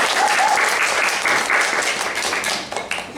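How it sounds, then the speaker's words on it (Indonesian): A class applauds group 2 after their presentation during a teaching session; brisk, dense clapping from a nearby group, loud and continuous before tapering slightly at the end. "tepuk tangan untuk kelompok 2"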